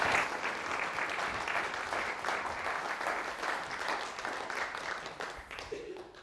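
An inaugural lecture audience breaks into sustained applause, dense steady clapping filling the hall at an even level before tapering off at the very end.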